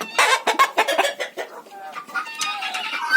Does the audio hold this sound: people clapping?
no